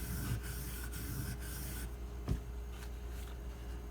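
A kamisori straight razor is sharpened with pressure along its edge, giving a continuous soft rubbing, grinding scrape with repeated strokes at a steady rhythm and one brief sharp knock partway through, fairly faint.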